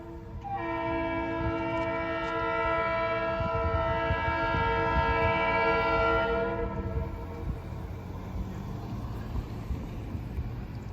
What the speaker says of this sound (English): all of a sudden Ann Arbor Railroad is coming